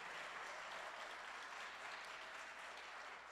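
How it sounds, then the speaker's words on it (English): Steady applause from an audience at a live jazz concert by the Milwaukee Jazz Institute, with dense, even clapping that holds at a constant level throughout, no voices or music on top. "It's great to see people and hear actual claps"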